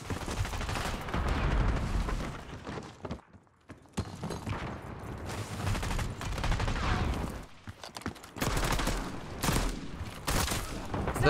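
Gunfire in the video game Black Ops 6: dense bursts of rapid shots and reports, loud and close, broken by a few brief lulls, with game effects mixed in throughout.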